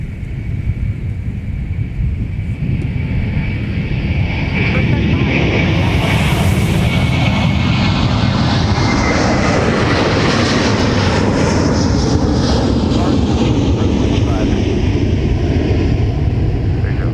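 An airliner arriving from Dublin roars past at MSP airport, its loud, steady engine rumble swelling and holding for many seconds.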